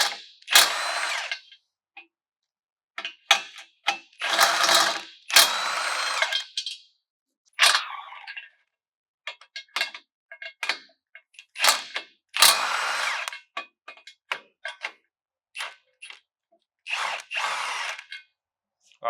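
Power tool with a 14 mm socket removing bumper bolts on a Lexus GX 460, giving short bursts of whirring and rattling across the stretch, with a few clicks and metal handling sounds in the gaps between them.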